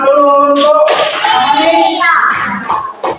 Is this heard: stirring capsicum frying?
no